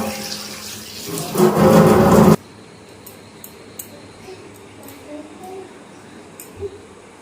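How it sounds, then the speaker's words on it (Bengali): Coriander leaves are rinsed under a running kitchen tap, a close rush of water for about two seconds that then cuts off, leaving a quiet room with small faint clinks. "পাতাগুলো ভালো করে ধুয়ে নিই"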